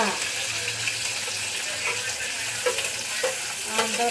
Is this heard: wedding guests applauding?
no